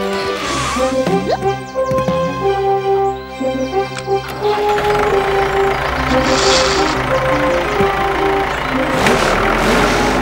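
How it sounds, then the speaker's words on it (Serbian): A cartoon tractor engine drones with a steady low rumble and tonal hum throughout, joined by clanks, plops and a brief rush of noise. "Sad je prilika da pokažeš kako dobro voziš traktor."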